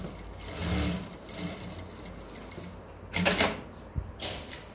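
A home sewing machine makes a double line of stitching on a cotton bra, with short irregular runs and pauses, a couple of sharp clicks, close and fairly quiet.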